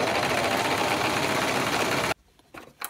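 A sewing machine running a wide zigzag with a cording presser foot chatters loud and steady for about two seconds, then stops abruptly, leaving a few faint clicks.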